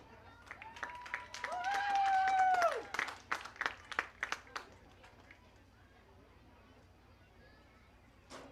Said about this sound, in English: Another round of applause for our state champion tennis doubles team.